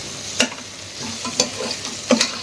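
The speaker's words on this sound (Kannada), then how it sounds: "ಇವಾಗ ಈ ಪುದೀನ ಸ್ವಲ್ಪ ಸೈಜಲ್ಲಿ ಹಾಫ್ ಆಗೋವರೆಗೂ ಫ್ರೈ ಮಾಡ್ಕೊಳ್ಬೇಕು." Fresh mint leaves frying in a pan for aloo pudina bath, a low steady sizzle with a spatula stirring and scraping three times, close to the pan.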